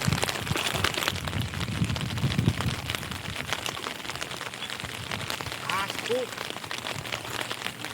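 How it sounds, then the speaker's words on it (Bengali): Heavy rain falls steadily in a rural Sundarbans setting, a dense continuous patter on surfaces throughout, with people talking faintly underneath. "সারাদিন বৃষ্টি হচ্ছে তোমার।"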